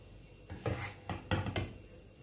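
Tawa chicken scooped out of a hot pan, heard as a few close metal scrapes and clinks of a utensil against the pan in an uneven rhythm over a quiet background.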